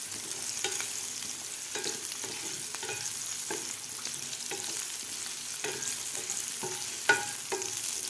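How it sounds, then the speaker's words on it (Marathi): Cut potatoes are stirred through oil in a pan, with repeated scraping strokes of a spatula every second or so over a low, steady sizzle. "आता हे बटाटेसुद्धा आपले व्यवस्थित खालच्या तेलामध्ये हलवून घ्यायचे आहेत,"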